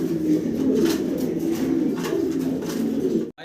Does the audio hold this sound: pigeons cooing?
yes